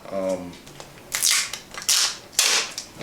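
Rustling, shuffling bursts of a packed box being shaken, several rough scraping jolts in quick succession, close up after a brief murmur.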